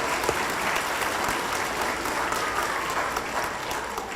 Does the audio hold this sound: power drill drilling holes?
no